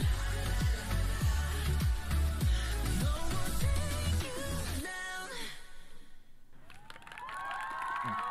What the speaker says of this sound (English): Deserved applause.